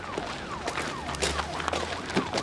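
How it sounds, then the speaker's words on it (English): An ambulance siren wails nearby in a repeating rising and falling sweep over a busy outdoor background, loud and continuous for a couple of seconds. "Look, the ambulance is here."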